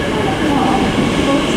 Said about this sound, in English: Here comes the passer. Which is 360-101. It's from Ipswich to London Liverpool Street.